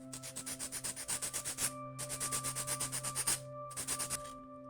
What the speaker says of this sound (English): we need to sand it a little bit